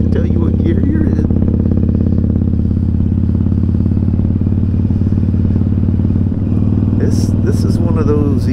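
A motorcycle engine runs steadily during an evening ride, a loud continuous drone with wind rumble and brief clatter toward the end.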